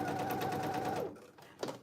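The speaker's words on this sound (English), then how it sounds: "So I want to make sure I'm following those stitches as I go back over and put in a back stitch." A sewing machine runs a back stitch on cargo pants, a close rapid whirring hum for about a second that then stops, followed by a faint click.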